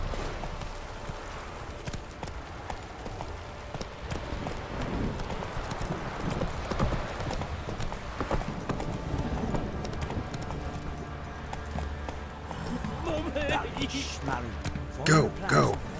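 Horse hoofbeats clip-clop steadily through a Witcher 3 game scene, a continuous galloping rhythm mixed with game sounds and music, with an occasional whinny and a voice talking over it.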